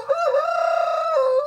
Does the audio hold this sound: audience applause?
no